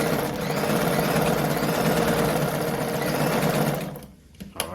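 A Brother model 345 sewing machine stitches buttonholes with a steady, close, fast-running whir that continues without a break, then stops abruptly near the end, leaving a few faint handling clicks.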